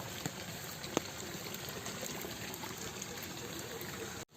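Muddy rainwater flows along a flooded road during rain, a steady broadband wash of running water that stays level throughout and cuts off abruptly at the end.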